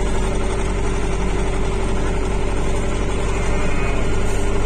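An MTZ-82 tractor engine runs steadily at close range on a snowy, windy village day, a loud continuous diesel rumble with an even, unbroken drone.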